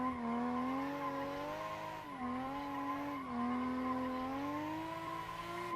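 A drifting car's tires skid in one long continuous squeal with a wavering pitch, heard steadily and somewhat distant, with no talking over it.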